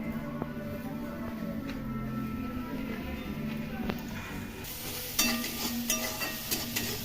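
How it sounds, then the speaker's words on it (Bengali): Black cumin seeds and onion fry in a pan outdoors, making a continuous close sizzling hiss with occasional taps of stirring; the frying grows brighter and louder toward the end. "কালো জিরো ভাজা হয়ে গেল, পেঁয়াজটা ভাজলাম,"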